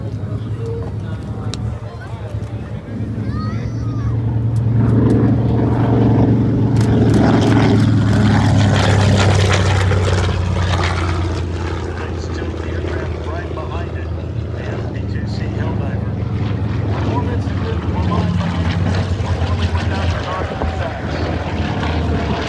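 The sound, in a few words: Grumman TBM Avenger WWII propeller plane flying past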